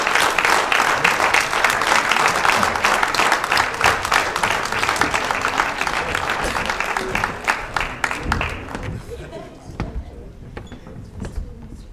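Bafana and Banyana players are applauded at a Western Cape football awards ceremony, with dense crowd clapping that holds steady and then thins and fades toward the end.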